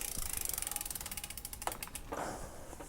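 SRAM mountain bike rear derailleur with an overtightened limit screw, chain rubbing against the sprocket as the shift is blocked, a rapid ticking ratchet-like clatter, close and fairly quiet, with a brief scrape near the end.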